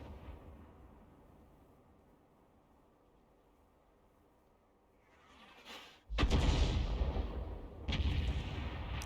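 Tank cannon fire in a combat video game: after a quiet stretch, a heavy booming shot lands, then a second blast follows, both loud and rumbling against a low background hiss.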